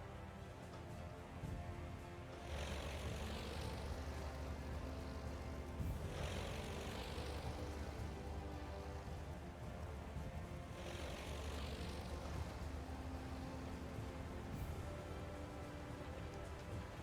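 Propeller engines of carrier aircraft start up and run in Aircraft Carrier Survival, a steady droning hum with a few rushing swells, continuous and moderately loud.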